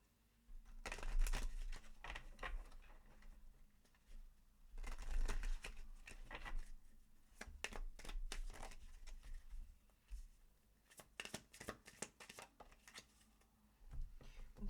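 Moonology oracle cards are shuffled by hand in several bursts of quick, soft riffling and slapping, with brief pauses between rounds, close and fairly quiet.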